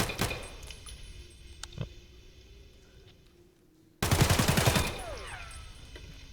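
Single shots from a gun in Escape from Tarkov crack loudly at the start, fading into quieter handling clicks, then a dense, loud burst of rapid firing erupts and rings out with metallic tails.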